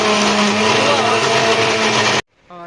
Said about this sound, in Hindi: और ऑन हो गया मिक्सी